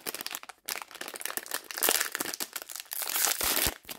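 The wrapper of a Bombbar protein brownie torn and opened close up, a dense run of sharp plastic crinkling and crackling for several seconds with brief pauses and no voices.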